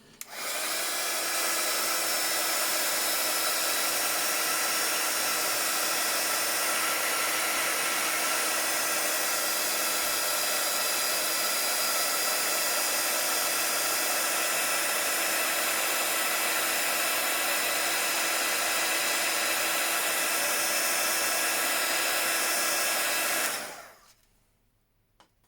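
A blow dryer runs close and loud for about twenty-three seconds while drying powder, a steady whirring hiss with a constant hum, then switches off and winds down to quiet.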